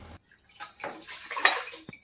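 Water is poured from a glass onto washed rice for rice kesari bath, a close, splashing, gurgling pour that swells and fades over a couple of seconds with no talk.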